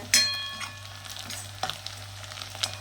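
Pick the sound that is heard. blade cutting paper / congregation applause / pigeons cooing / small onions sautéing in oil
small onions sautéing in oil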